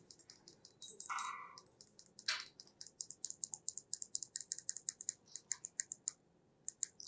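Rapid keystrokes on a computer keyboard, a steady run of crisp, close clicks with a few heavier mouse-style clicks early on, no voices.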